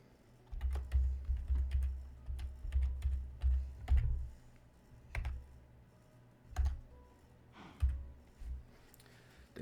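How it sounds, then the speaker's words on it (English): Bursts of clacky computer-keyboard typing with short pauses between runs, fairly close, with no talking over it, while building in Minecraft. "Oh yeah, I gotta use my keyboard, don't I?"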